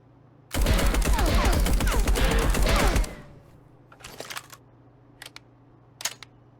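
Rapid automatic gunfire from a firearm in the video game Marauders: a loud sustained burst of about two and a half seconds, followed by a few sparse mechanical clicks and a short sharp crack.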